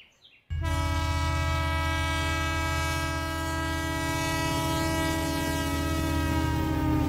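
A train horn blares loudly after a brief quiet moment and holds as one steady whistle for several seconds, used as a sound effect in a Bengali audio drama, with no voices.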